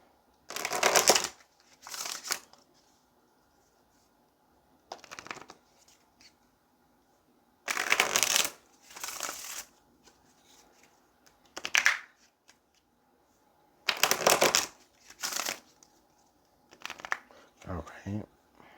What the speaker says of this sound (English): let's go ahead and get a couple of shuffles.